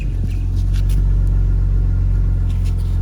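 A BMW 328i engine with its stock muffler idles close by with a deep, steady rumble that holds constant throughout.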